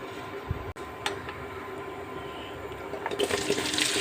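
Fennel seeds hit hot oil in a pan for tomato rice, giving a steady, close sizzle with a few small pops and a surge of crackling near the end, with no talking.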